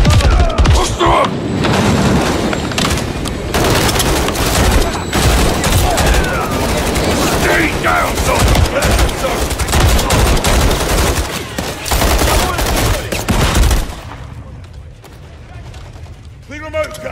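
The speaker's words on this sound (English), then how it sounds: "We need suppressive fire here now!" Heavy gunfire and explosions during a firefight in the video game Call of Duty: Modern Warfare 3, with dense overlapping bursts and booms, loud and continuous, mixed with shouted voices before thinning out near the end.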